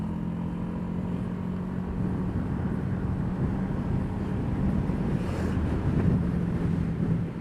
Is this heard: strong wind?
yes